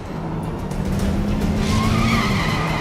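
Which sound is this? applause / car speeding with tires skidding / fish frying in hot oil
car speeding with tires skidding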